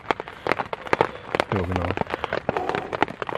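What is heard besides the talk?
rain heard from a bivvy bag in the forest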